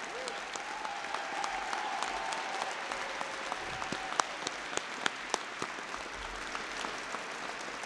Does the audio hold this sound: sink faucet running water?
no